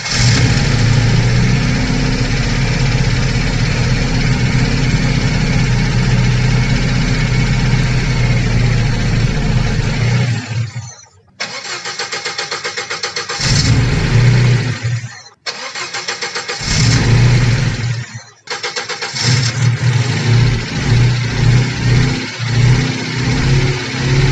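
An old, troubled engine cranks and fires up, then runs loudly with a rough, steady drone, cutting out briefly a few times before catching again.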